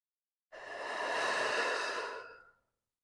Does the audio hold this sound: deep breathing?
yes